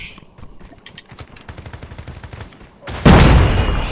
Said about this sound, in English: Oh, I got hit with a fucking rocket.